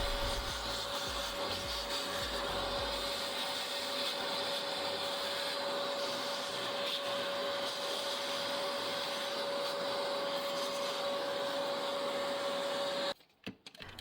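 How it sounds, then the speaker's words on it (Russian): Vacuum cleaner with a crevice nozzle cleaning a window frame, a loud steady whining drone with a fixed tone running for most of the clip before cutting off near the end, with scraping rumbles early on. "Берите пылесос и щеткой с пылесосом убирайте отсюда всю пыль и песок."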